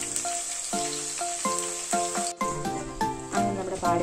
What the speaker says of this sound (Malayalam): എണ്ണ നന്നായിട്ട് തിളച്ച് വന്നിട്ടുണ്ടെങ്കിൽ നമുക്ക് ചക്കപ്പാട ഇതിലേക്ക് ഇട്ട് കൊടുക്കാം.